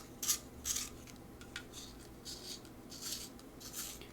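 An art supply is sharpened with short, soft scraping strokes, about seven quiet rasps in an uneven rhythm, heard close up against a faint background hum.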